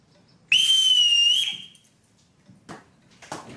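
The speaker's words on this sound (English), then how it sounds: "Everyone in this house answers to a whistle." A single loud, shrill whistle blown to summon a household, one sustained blast of about a second that cuts off sharply, followed by faint rustling and brief knocks.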